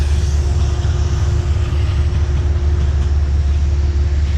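A train riding the railroad toward Croton-Harmon, heard from inside as a loud, steady rumble with low-frequency drone and a constant hum throughout, no voices.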